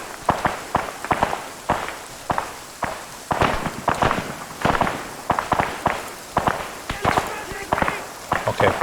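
Sharp, repeated gunfire cracks and blasts ring out in the Arma 3 military combat game, a rapid irregular string of close, loud impacts with brief gaps between bursts, and someone speaking in between.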